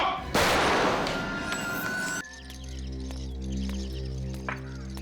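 A single loud gunshot bursts out early in a tense TV crime drama scene, a sharp crack with a ringing tail that cuts off abruptly into a low droning music hum.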